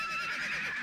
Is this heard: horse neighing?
yes